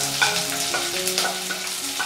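Coconut pieces and onion sauté in a pan for a mushroom masala, with a steady close sizzle and several soft scraping stirs. No one speaks.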